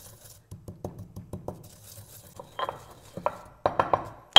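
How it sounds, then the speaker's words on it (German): Cumin seeds being crushed and ground in a mortar while preparing köfte, a series of short knocks and scraping grinds, close and distinct, growing sharper toward the end. "Kommt das hier in so einen Mörser. Und dann wird das ein bisschen fein gerieben,"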